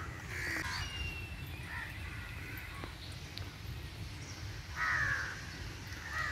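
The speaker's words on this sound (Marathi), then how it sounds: "कावळे आंघोळ करतात." Crows cawing while bathing outdoors on a calm, pleasant day: a few harsh caws at scattered moments over steady low background noise, fairly near.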